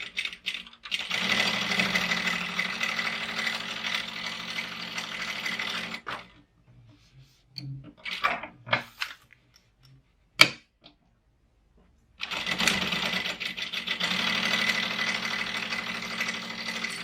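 A sewing machine stitches a bag panel for a Harlequin pouch, running steadily for about five seconds, then a pause filled with a few small clicks and taps, before it starts up and runs again at an even pace.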